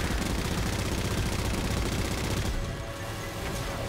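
Sustained rapid gunfire in Halo 4, a dense, loud rattle of continuous shots that eases slightly near the end, with no talk.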